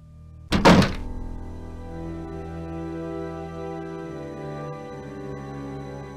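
A stuck door in the Nancy Drew haunted-mansion game gives one loud, heavy thunk, then a long resonant ring fades out slowly behind it.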